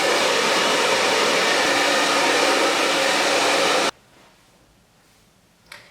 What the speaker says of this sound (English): Using my trusty Babyliss, I'm going to dry my hair upside down because that way I get the most volume.